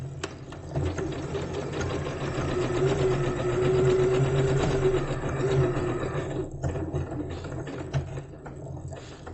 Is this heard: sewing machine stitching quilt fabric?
yes